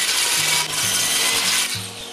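A plywood panel is hand-sawn to size, giving close, steady rasping back-and-forth strokes with a bright, continuous gritty texture and brief pauses between pushes, no talking.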